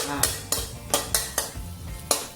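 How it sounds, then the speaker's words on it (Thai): Garlic stir-fried in a hot pan brings a run of sharp, regular utensil scrapes and clacks against the metal, about six evenly spaced strokes, heard close and with no talking. "อันดับแรกเราก็จะผัดกระเทียมให้หอมนะคะ"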